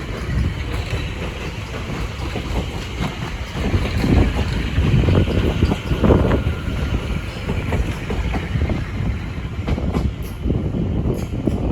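A London Overground Class 710 electric train runs on the West Coast Main Line at Bushey, heard as a steady rumbling roar that swells in the middle and is mixed with wind noise on the microphone.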